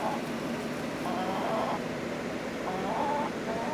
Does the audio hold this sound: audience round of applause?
no